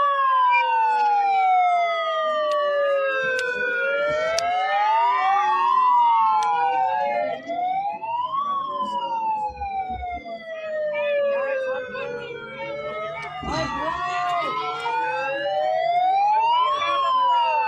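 Several wailing sirens rise and fall over each other continuously at a street protest, loud and sustained, with occasional background noise.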